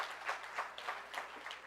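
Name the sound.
audience applause at an awards ceremony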